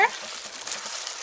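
Norwegian casserole frying in a wok while being stirred, a brief close sizzle with soft scraping clicks after a short voice fragment at the start.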